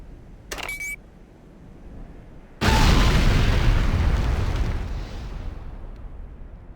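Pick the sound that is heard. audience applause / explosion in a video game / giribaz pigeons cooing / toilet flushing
explosion in a video game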